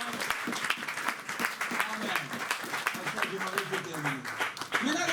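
A church congregation claps and cheers at a sermon. The clapping is brisk and irregular, with voices calling out over it. A speaking voice rises near the end.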